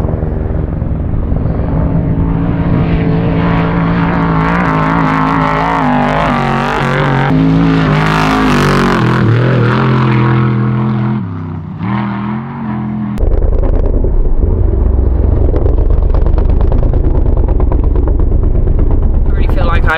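Off-road racing trucks roar past with loud revving engines, heard close from the back of a pickup truck watching the race, the engine noise rising and falling continuously and dipping briefly before surging again, with voices mixed in.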